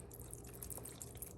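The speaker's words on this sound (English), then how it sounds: "in this bottle I have white distilled vinegar, and so what I'm gonna do is I'm gonna pour some all over my oxtails" White distilled vinegar pours over raw oxtails in a kitchen, a faint, close, continuous liquid splash and trickle lasting a brief moment.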